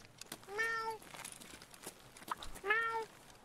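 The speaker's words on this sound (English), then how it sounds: "There's someone fucking meowing down there?" Two distinct meows, a few seconds apart, from a cowboy-hatted cat character in a video game, fairly close and clear over faint clicks and rustles.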